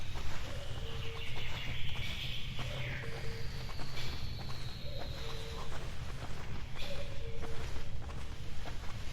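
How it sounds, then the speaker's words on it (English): Birdsong ambience in the video game 35MM: scattered chirps and whistles at moderate distance over a steady outdoor background hiss, with a faint repeating low tone and soft intermittent thumps like footsteps. "suddenly being surrounded by birdsong when there wasn't all that much beforehand is really unnerving"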